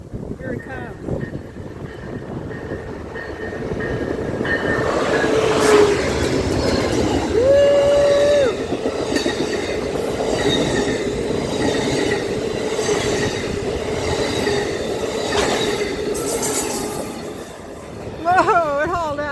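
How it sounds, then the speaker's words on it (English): A train rolls past a station in Guadalupe with a loud, sustained rumble, brief wheel squeals and a horn-like tone, while people talk nearby. "I've been waiting for the train in Guadalupe. Here it comes."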